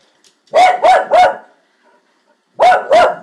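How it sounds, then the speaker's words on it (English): A dog barks in two bursts: three quick loud barks, a short pause, then two more, close to the microphone with no talking. "What are you barking at?"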